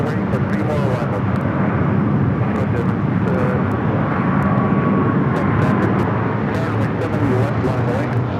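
Airplane engine roaring steadily as a jet arrives at Los Angeles LAX airport, a sustained loud drone with a faint rising whine and no one talking.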